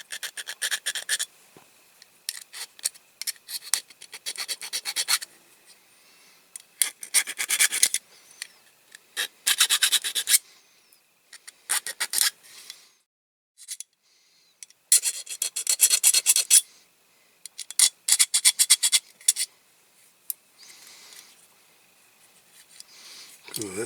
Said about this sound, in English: Smooth side of the file against the wheel.